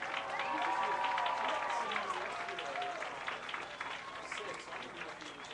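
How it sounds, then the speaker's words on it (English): Crowd applause at a high school sports event (FBC vs Northland Christian) honoring a longtime cancer survivor, a steady wash of clapping from a large, somewhat distant audience, slowly tapering over several seconds with voices mixed in. "If you could also join me in giving a hand clap for Miss Peggy Jo Slosted"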